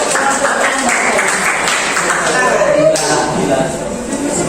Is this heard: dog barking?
no